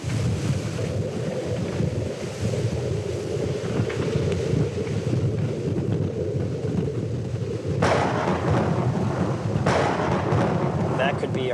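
Low rolling thunder from an approaching storm, heavy and continuous, mixed with strong wind buffeting the microphone; the roar swells abruptly near the end.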